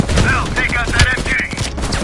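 Dense machine gun fire in the video game Call of Duty Black Ops Cold War, loud and continuous with rapid overlapping shots throughout, mixed with shouting voices.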